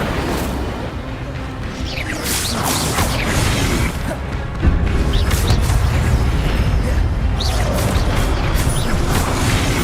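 Spells cast in the Hogwarts Legacy video game: a dense run of booms, crashes and bursting impacts, loud and continuous, with a heavier hit near the middle.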